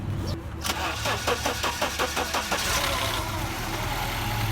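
A Mini Cooper R56 engine starting after its burnt ECU was replaced: a rapid run of starter cranking pulses catches within about two seconds and settles into a steady, loud, close idle.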